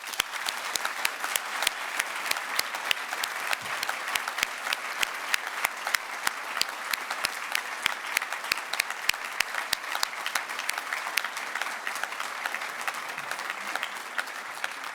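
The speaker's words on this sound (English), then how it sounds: "join me in applauding our graduates" An audience applauds graduates at a 2022 Birkbeck graduation ceremony, with dense, steady clapping from a large crowd that holds at an even level for the whole stretch, with no voices over it.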